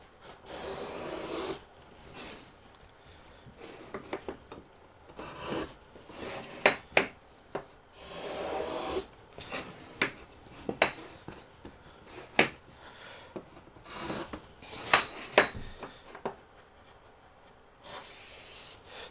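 A HONGDUI woodworking chamfer plane shaves a wooden corner in repeated rasping strokes, close and fairly quiet, with an uneven rhythm of short scraping passes and no talking.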